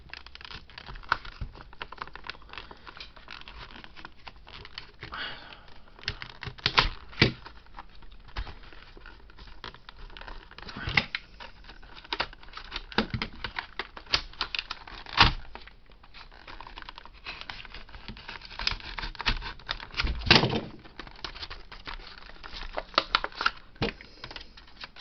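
Packaged parts of an R2-D2 model kit are opened, a continuous stream of close crinkling, rustling and small ticking handling noises with occasional sharper snaps.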